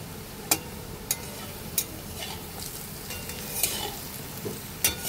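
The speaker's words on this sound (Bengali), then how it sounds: "বড়াগুলো আমার ভাজা হয়ে যাবে" Matar dal vada fritters deep frying in hot oil, a steady bubbling sizzle with a few sharp pops and spoon clicks at intervals, close and continuous, with no talk.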